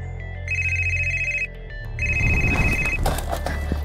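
Telephone ringing for an incoming call, two bursts of a loud electronic ringtone with a pause between, then noisy background sound building up underneath as the second ring ends.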